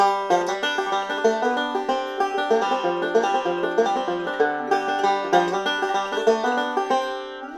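Bluegrass banjo picked in fast, steady rolling patterns, a continuous bright stream of plucked notes with a bouncy, even rhythm, played close and clear.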